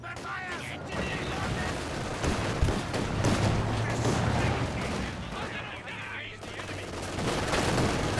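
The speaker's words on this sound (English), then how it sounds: "Sniper fire!" Battle in the video game Company of Heroes 2, with dense overlapping gunfire, booms and explosions rolling continuously, loud and close, while in-game voices shout over the combat.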